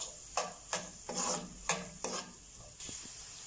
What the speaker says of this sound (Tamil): இப்போ நல்லா வதக்கி விட்டுக்கலாம். வெங்காயம் நல்லா வதங்கணும்.